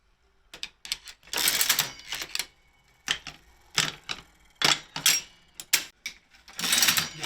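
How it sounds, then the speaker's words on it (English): An old mechanical slot machine running, a close series of sharp clacks and ratcheting clicks in irregular bursts with brief pauses between them, no talk. "You have 5 clicks when you do a machine, if it's working correct."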